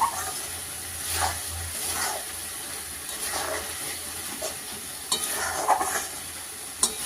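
Meat goes into hot oil and fries with a continuous hissing sizzle, punctuated by rhythmic stirring scrapes and a couple of sharper knocks against the pan.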